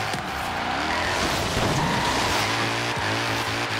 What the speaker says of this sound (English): you're going to want to drift your way around the circuit